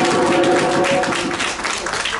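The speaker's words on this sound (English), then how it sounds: "Give yourselves a round of applause for coming." A short burst of dense applause from the audience at a Kwanzaa ceremony, loud and continuous, with some voices mixed into the clapping.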